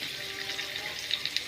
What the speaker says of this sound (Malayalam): വരാലിന് നമ്മളങ്ങനെ ഫ്രൈ ചെയ്തെടുക്കാൻ വേണ്ടിയിട്ട്